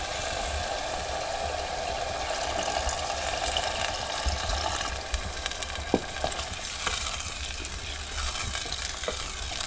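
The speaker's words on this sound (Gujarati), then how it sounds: "હવે થોડું પાણી નાખી દઈએ આપણે" Water is added to a bottle gourd and papad curry frying in a village kitchen. Loud, steady sizzling and bubbling fills the whole stretch, with a few small pops and clinks near the end.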